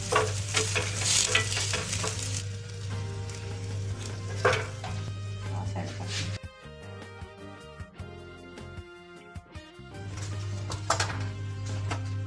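Besan paratha roasting on a hot griddle over a low flame, a steady sizzle with stirring and pressing scrapes, a short quieter pause midway, then the frying resumes.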